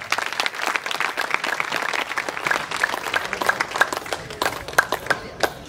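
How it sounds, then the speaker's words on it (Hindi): Audience at the Murthal Mahotsav festival clapping enthusiastically, steady crowd applause with sharp individual claps standing out. "खूब तालियों के साथ"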